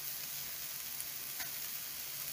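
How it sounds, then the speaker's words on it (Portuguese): Cooked red cabbage with ginger and chopped green herbs sizzles steadily in a hot pan while being stirred, with a soft clack of utensil against the pan partway through. No talking. "Vou misturar um pouquinho."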